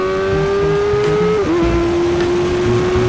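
A car engine howls steadily at high revs, then a quick shifter gear change cuts in with a sharp drop in pitch before the note climbs again, loud and close.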